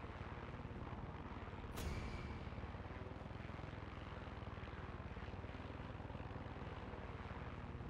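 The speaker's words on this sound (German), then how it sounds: "So ein Helikopter kann schon was Feines sein" A helicopter in the video game Far Cry 6 flies with a steady, loud rotor and engine drone that fills the whole stretch, with a brief sharp burst near the two-second mark.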